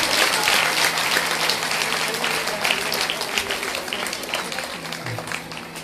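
An audience at a Srimad Bhagwatam katha in Mohan Nagar, Ghaziabad claps loudly, the sustained applause gradually thinning out as a voice speaks over it.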